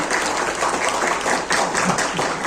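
An audience applauds at a book presentation in a university faculty, a dense, sustained crowd clapping at close range, filling the moment without speech.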